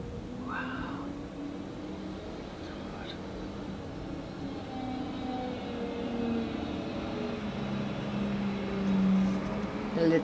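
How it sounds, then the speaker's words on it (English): Garbage trucks rumble outside a home in a low, continuous drone that slowly grows louder toward the end, with faint engine tones and no clear speech. "I cannot believe how long these garbage trucks are going on for."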